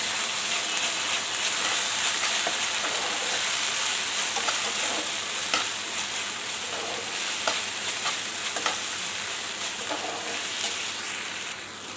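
Fried onions with tomato sauce and chilli sauce sizzle steadily in a pan. A spoon gives soft, irregular scraping taps as it stirs, with no one speaking.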